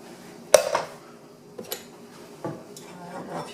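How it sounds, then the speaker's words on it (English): A pressure cooker lid holding cooked dal is opened, with a sharp metallic clank followed by a few fainter knocks and scrapes of metal in a quiet kitchen. "So I'm opening the pressure cooker."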